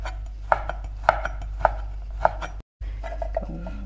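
A knife chops ginger in a steady rhythm of about five crisp strikes on a board, followed by a short silence and a few softer knocks while preparing a Korean meal.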